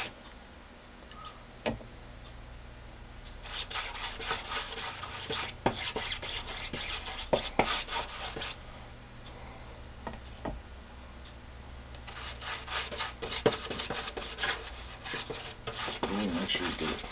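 A brush spreads dope across a silk covering in repeated rasping strokes, fairly close and moderately loud, with quieter pauses between bursts and a steady low hum underneath.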